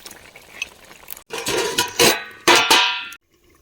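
Pieces of fried fish dropped into a boiling curry broth and stirred, with a few loud clattering, scraping bursts close by, separated by short quieter gaps and ending abruptly.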